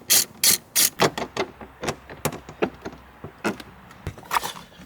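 Hand ratchet working loose the bolts on a Mazda RX-7 FD shifter during a short shifter install, a series of sharp metallic clicks in bursts, loud and close, with no voices.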